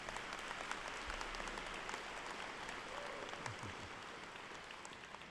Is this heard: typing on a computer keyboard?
no